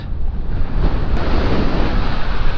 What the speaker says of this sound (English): It's just the power in these waves.